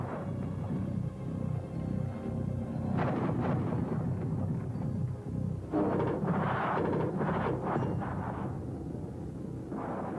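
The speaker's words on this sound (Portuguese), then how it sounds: "os helicópteros atacam com todas as suas armas: mísseis antitanques, canhões e foguetes." Combat helicopters fire anti-tank missiles, cannons and rockets: repeated booming blasts and rolling rumbles rise and fade over several seconds, heavy and distant-sounding, with no voices.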